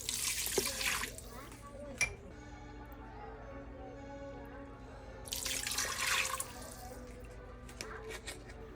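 Water runs into an Instant Pot holding rice in a home kitchen, heard as two short pouring bursts separated by a quieter stretch of faint background noise.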